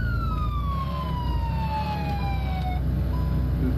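A police car siren in an offroad police driving video game wails continuously close by, its tone gliding steadily downward over a constant low engine drone.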